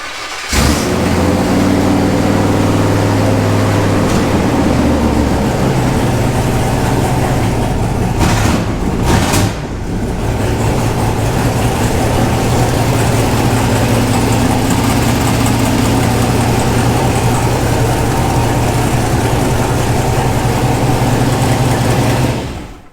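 A turbocharged LS engine in a C10 pickup runs close by with a loud, steady idle and deep rumble, with a brief dip and change in tone partway through before settling back to a constant drone.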